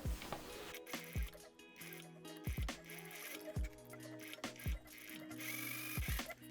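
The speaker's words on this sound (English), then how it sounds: "So I'm just gonna stitch along the curved lines right here" Sewing machine stitching a cropped jacket lining along curved lines, running in short rhythmic bursts of needle clatter with brief pauses between, close and fairly loud.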